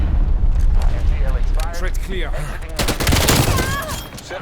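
Gunfire from Call of Duty: Black Ops Cold War, a TEC-9 SMG among the weapons, as scattered bursts and shots mixed with whooshing in-game effects under steady chatter.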